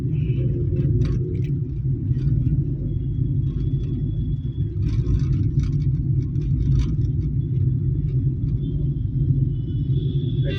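Heavy road traffic waits and moves at a city signal, making a continuous low engine rumble with passing vehicles and faint high whines on top. No talk is heard.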